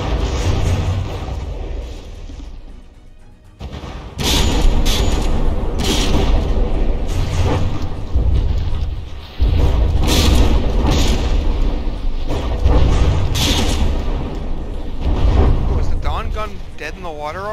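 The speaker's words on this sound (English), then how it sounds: "It was braked by the force of the explosions from the Bismarck's guns." Battleship guns of the Bismarck fire in the naval combat game From the Depths, heavy booming blasts repeating every few seconds over a continuous mechanical rumble, with a voice talking over them throughout.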